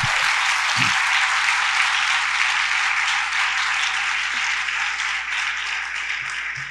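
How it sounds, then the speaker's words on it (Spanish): A church congregation applauds during a sermon, sustained loud clapping from many hands filling the hall, steady for several seconds and easing slightly toward the end, with a faint low hum beneath. "Démosle un aplauso al Señor"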